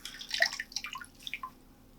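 Water drips and splatters from a wrung-out t-shirt in quick, irregular drops, close and fairly faint, thinning out toward the end.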